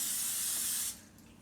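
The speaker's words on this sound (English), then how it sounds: "I forgot to spray these with oil, so I'm gonna put more oil on." Cooking oil spray hisses onto chicken thighs in one steady, close burst lasting about a second, then cuts off sharply into near quiet.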